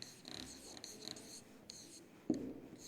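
Teacher writing on a classroom board during a grammar lesson, faint scratchy strokes in short bursts close by, quiet room with a small knock near the end.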